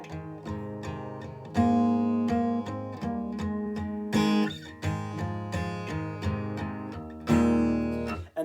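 Strummed guitar chords and picked notes in a lively rhythmic instrumental passage, with accented hits recurring every couple of seconds and no voices.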